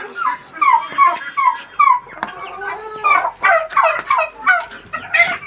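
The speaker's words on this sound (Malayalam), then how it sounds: "അതാ ടർക്കി, അതാ ടർക്കി." A turkey gobbles loudly and close by in a rapid series of rattling calls, repeating in bursts across the clip with little else around it.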